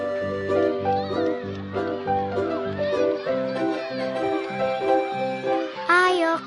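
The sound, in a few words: child imitating a cat meowing in a chase game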